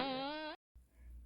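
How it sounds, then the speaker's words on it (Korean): A cartoonish fart sound effect in a narrated children's folktale, a single sustained, strongly pitched squeaky tone lasting about half a second, then a sudden cut to silence followed by low background rumble. "새소리같이 아름다운 방귀가 나왔어요."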